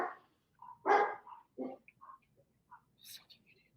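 Dog barking indoors in short, separate barks of varying loudness, one strong bark early and fainter yips after, with a voice speaking quietly between them.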